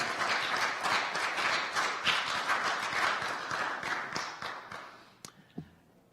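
A synagogue congregation claps during a Musaf service, a busy, even patter of many hands that keeps going for several seconds before fading out into a few scattered last claps.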